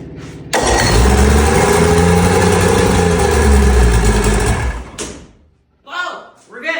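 The inboard engine of a 1959 fiberglass runabout boat cranks and bursts into a loud, steady roar for several seconds, then cuts off, followed by brief voices.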